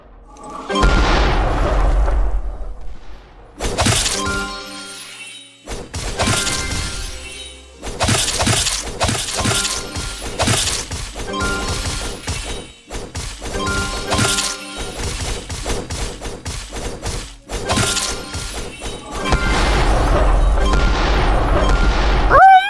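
Repeated loud booms and shattering crashes from a video game, with bursts of debris and rumble broken by brief pauses.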